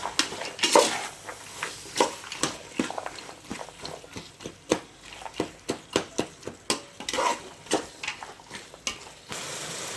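Carrots, beans and peas are stirred in a metal pot with a spoon, giving a run of close, rhythmic scrapes and clinks, roughly one or two per second, over a soft background with no talk.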